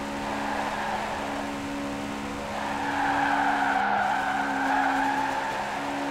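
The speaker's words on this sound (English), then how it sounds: "It's a good drift there." Subaru 2016 rally car drifting in Forza Horizon 4, a steady engine drone with sustained tire squeal that rises and swells midway, with no talk over it.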